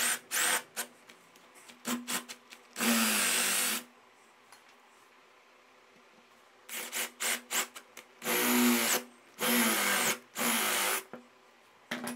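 A power drill bores a hole into a wooden door to fit a concealed door hinge, running in several loud sustained bursts, with short clicks and scraping between them and a pause midway.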